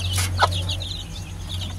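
Chickens, a hen with her chicks, clucking and peeping in short bursts close by on a backyard farm, over a steady low hum.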